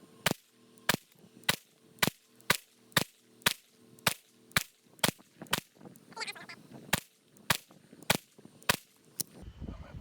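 Fifteen sharp handgun shots from a CZ P10c fired at a target 25 yards away, loud and evenly spaced roughly every half second to second, each crack standing alone with faint ambient noise between.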